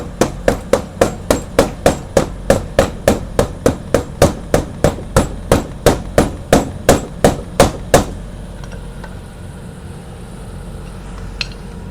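A hammer strikes metal about twenty-three times in a steady, loud, close rhythm during an emergency repair of an 18-speed bicycle's shifting, then the blows stop and leave a quiet background hum.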